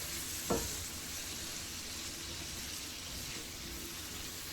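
Garlic frying in a pan, a faint, even sizzle with a short scrape of stirring near the start.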